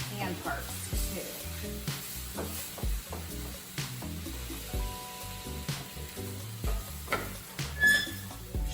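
Shrimp sizzles and fries in a hot pan while home-cooking a citrus shrimp avocado salad, a steady crackling hiss with occasional stirring scrapes, close and moderately loud, with a low musical bed underneath.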